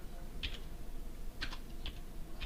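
Keys clatter on a computer keyboard in a few quick, light bursts, close and fairly quiet, with soft background hiss between the presses.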